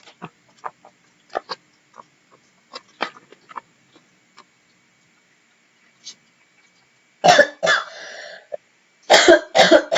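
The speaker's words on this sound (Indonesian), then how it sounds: "Maaf, batuk." Several sharp coughs and throat-clearing bursts, scattered sparse ones at first, then two louder clustered coughing fits near the end, close to the microphone.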